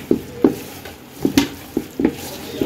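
Chilli powder and garam masala are mixed in a pot, heard as a series of close, distinct clanks and scrapes of a spoon against metal, roughly two or three per second, over a quiet background.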